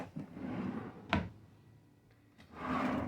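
A wooden drawer in a cruise ship balcony cabin slides open with a scraping rumble, shuts with a sharp knock, then slides out again.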